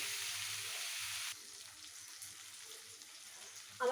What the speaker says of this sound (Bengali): আমার এটা ফ্রাই করা চলছে